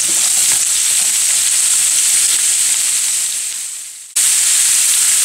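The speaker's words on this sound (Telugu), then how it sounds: "ఇవన్నీ వేసేసి ఒకసారి కలిపేసుకుందాము. ఇలా మొత్తం ఆయిల్ అంతా ఇట్లా వచ్చేలాగా కలుపుకోవాలి." Beetroot stirred in hot oil gives a loud, close, even frying hiss that fades down to near silence around four seconds, then snaps straight back at full strength.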